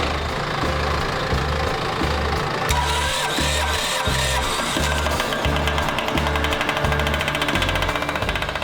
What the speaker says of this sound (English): Got the compressor started with the 40 amp fuse, so now it's running